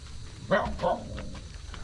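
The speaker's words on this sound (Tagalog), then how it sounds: "Tsaka ang daming aso." A dog barks twice in quick succession at a moderate distance, followed by quieter low background noise.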